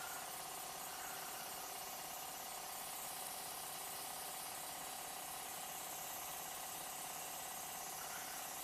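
An airbrush sprays foundation makeup onto skin, giving a steady, soft, continuous hiss with a faint compressor hum underneath. It stays even and uninterrupted for the whole stretch, with no talking.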